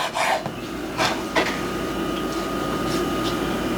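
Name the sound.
knife cutting sausage strips into chunks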